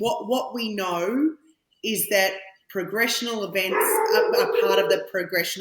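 A dog barks in the background beneath a continuous foreground voice, the barks mixed into and partly masked by the speech.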